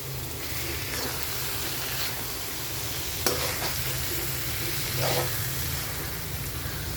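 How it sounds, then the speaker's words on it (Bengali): Butter with refined oil and mustard oil sizzles steadily in a pan while a bun with stuffing is cooked, a continuous close hiss broken by occasional stirring scrapes and clicks. "আমি মাখন দিয়ে আর রিফাইন্ড অয়েল দিয়ে রান্না করছি, আর মাস্টার্ড অয়েল দিয়ে।"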